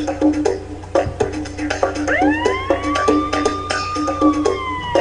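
A wailing electronic siren sound effect rises and holds over a looping musical backing track in a Nancy Drew video game, loud and close, with no talk.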